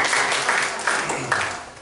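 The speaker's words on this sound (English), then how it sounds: "Give yourselves a round of applause." A small audience gives itself a brief round of clapping, a short burst of hand claps in a room with a voice faintly present.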